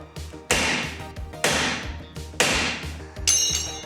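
A hammer strikes a seized suspension part on a Mazda 3 four times, each blow a loud, sharp metallic crack with ringing decay, evenly spaced about a second apart.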